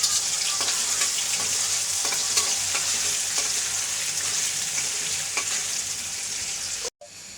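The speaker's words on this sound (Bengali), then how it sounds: "সোয়াবিন দিয়ে একবারে তেলে দিয়ে দিলাম।" Soybean chunks sizzle and crackle in hot oil for a pan of pumpkin and potato khichuri, a steady loud frying hiss with small pops, cut off abruptly near the end.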